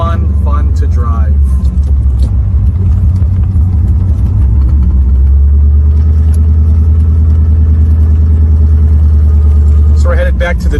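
Muscle car engine rumbling steadily while driving, a loud, continuous low drone throughout with someone talking over it at the start and end.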